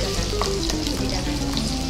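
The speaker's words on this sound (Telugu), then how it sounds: "ఆనియన్స్ కూడా మనం ఫ్రై చేస్తాం." Onions fry in hot oil in a potato dish, a loud, dense sizzle with stirring scrapes running continuously.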